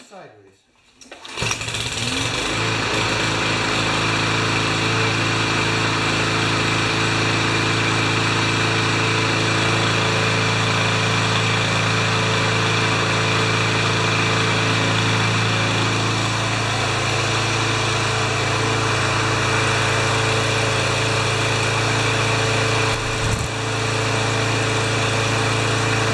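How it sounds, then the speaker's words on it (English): A Powermore lawn mower engine starts with a short sputter, then runs loud and steady for over twenty seconds as a constant buzzing drone, with one brief dip near the end. "that is way too loud for a modern-ish lawnmower"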